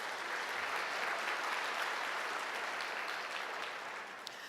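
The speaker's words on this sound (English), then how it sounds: "Give yourselves a round of applause" Gala audience at a black professionals' evening event claps in a broad, even wash of applause, fairly distant and steady, easing slightly in the last second.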